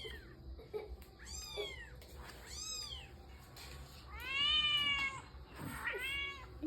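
A cat meows about five times nearby in clear, drawn-out calls with short pauses between them, over a quiet indoor background.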